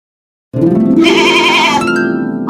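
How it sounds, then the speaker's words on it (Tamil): A goat lets out one long, loud, wavering bleat close by, held for about two seconds after a moment of silence. "ஆடு மே மே என கத்தும்."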